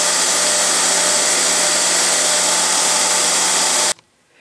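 A power drill whines steadily and loudly while drilling a metal decoy weight mold, running continuously before stopping abruptly near the end.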